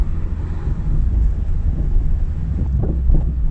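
Peugeot 309 petrol car driving on the road after restoration, its engine a steady low rumble with buffeting wind noise throughout, close and fairly loud, no talk.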